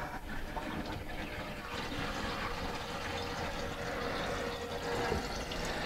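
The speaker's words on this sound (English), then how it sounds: "you turn the water back on. It's going to fill itself back up." A toilet tank refills with water after a flush, a steady rushing, hissing flow of water that runs continuously at a fairly constant level from start to finish.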